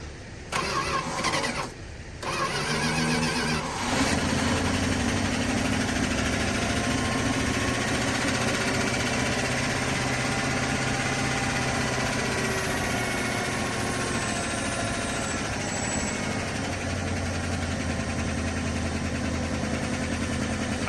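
An abandoned 1979 Cordoba with a carbureted engine and a vacuum leak at the throttle blade cranks briefly, catches and then settles into a loud, steady idle with a slight uneven hum, running close for the rest of the clip.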